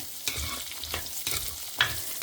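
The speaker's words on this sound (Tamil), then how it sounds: "இது கொஞ்சம் நேரம் இப்படியே வதங்கட்டும்" Ground masala sautéing in a pan for a brinjal kara kuzhambu, giving soft sizzling with a few stirring scrapes that come in short bursts, close and moderately quiet, with no talking.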